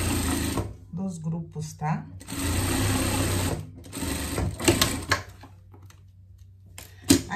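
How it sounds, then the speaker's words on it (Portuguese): Sewing machine running in bursts as it joins the two hood pieces of a pet sweatshirt, a Barbie-style fleece outfit, the whirring stitching loud and close with someone talking over and between the runs. "a gente vai passar uma costura aqui, tá? Juntando os dois capuz."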